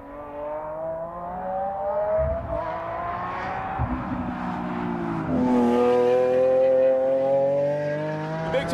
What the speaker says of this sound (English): That V12 sounds so good.